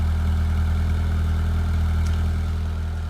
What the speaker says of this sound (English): Little spouty exhaust, proper raspy.